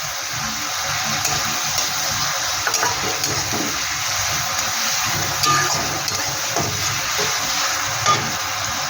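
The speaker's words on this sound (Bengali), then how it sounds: "পেঁয়াজটা একটু হালকা করে একটু ভেজে নেব।" Onion lightly frying in a pan, a steady close sizzle that runs throughout with faint stirring clinks and no talking.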